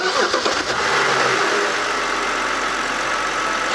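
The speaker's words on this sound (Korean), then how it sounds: "한번 시동을 한번 일단 걸어가지고 엔진 상태를 한번 확인해 볼게요." A BMW E60 528i engine cranks briefly, catches and settles into a steady, close idle with no talking; the car has been stalling while driving.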